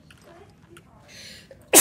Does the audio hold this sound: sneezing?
yes